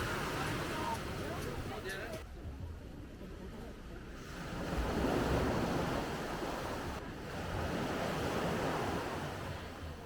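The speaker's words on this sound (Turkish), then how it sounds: "Dalgalar falan tatlı tatlı geliyor." Gentle sea waves wash steadily onto a beach in Sri Lanka, a broad continuous surf with soft swells that rise and fade, mixed with wind noise on the microphone.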